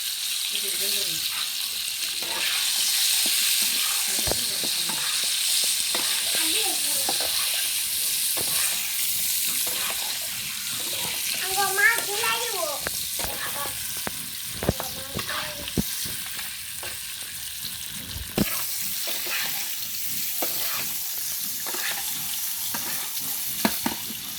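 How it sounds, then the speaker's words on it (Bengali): Eggs frying in a wok (kadai), a steady loud sizzle with occasional stirring scrapes and a few sharp clinks, with faint speech in places. "এখন আগে ডিম ভেজে নেবো"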